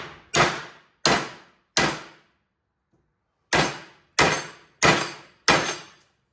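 Hammer blows on steel plates cut for a 1954 Chevrolet Bel Air transmission crossmember, seven sharp ringing metallic strikes close up, three in quick rhythm, a pause, then four more, each clanging and decaying briefly.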